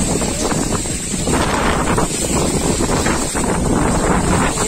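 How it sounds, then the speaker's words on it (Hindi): A tornado whips strong wind across a farm field, making loud, continuous roaring gusts that buffet the microphone, close and harsh, with no talking. "कितने तेज हवा है"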